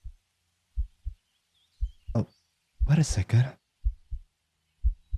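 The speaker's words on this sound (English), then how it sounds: "I hear a heartbeat." A slow heartbeat thumps in soft paired beats at a steady rhythm, close and low, with a voice speaking briefly between the beats.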